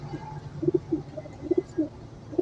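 Soft coos from a golden Salara pigeon repeat in short, throaty pairs and single notes, close by, over a quiet background.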